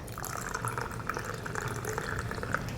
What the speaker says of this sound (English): I'm gonna pour the rest of the coffee on top